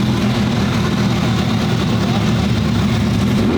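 A supercharged Lamborghini engine idles steadily while warming up, a loud, close, continuous low rumble with no revving.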